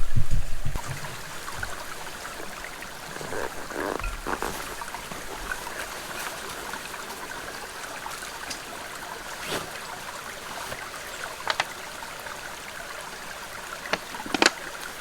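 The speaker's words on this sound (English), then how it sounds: "It's a pretty clear stream at a high elevation." A clear high-elevation mountain stream rushes and burbles in a steady broadband wash, with occasional sharper splashes and knocks, close and continuous throughout.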